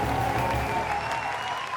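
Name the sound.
audience applause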